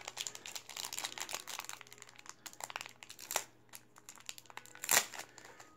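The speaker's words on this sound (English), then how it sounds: "let me just take it out the packaging" Stainless steel jewelry packaging crinkles and rustles as it is opened, quiet close handling in short irregular bursts with a sharper crackle near the end.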